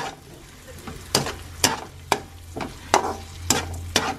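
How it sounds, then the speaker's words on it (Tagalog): Butter sizzles in a hot pan while carbonara is cooked at home, with a steady frying hiss broken by about seven sharp, regular stirring scrapes close by. "And maglalagay na rin ako ng butter."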